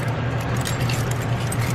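A large bunch of about 52 keys jangling in a garage during a torque converter install, bright metallic rattling that spreads over a steady low engine-like hum, close and fairly loud, with no talk.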